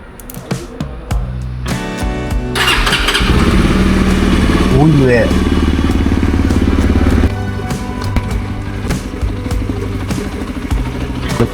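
A motorcycle is cold-started after sitting dusty and overdue for service. There are clicks and thumps, then the engine catches and runs with a loud, rough, uneven idle close by, settling lower toward the end.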